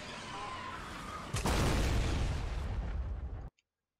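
A homing missile explodes in a video game with one sudden heavy boom, followed by a rumbling, crackling tail that stays loud for about two seconds before cutting off abruptly into silence.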